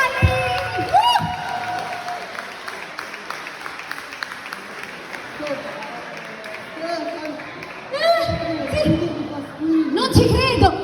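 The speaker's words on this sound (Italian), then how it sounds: "applauso per Gianni!" Applause and cheering for Gianni at a singing school recital, a crowd clapping with voices calling out over it and a renewed swell of noise near the end.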